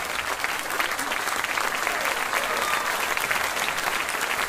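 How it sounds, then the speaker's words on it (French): An audience at an amateur concert applauds the composer of a newly premiered piece, a dense and even patter of many hands heard from a moderate distance, sustained without a break. "Je vous remercie d'applaudir Alexandre Carlin."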